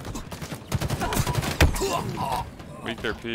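Rapid bursts of gunfire in Halo Infinite, a dense rattle of shots with a few heavier impacts, with game voice lines and a player talking over the fire.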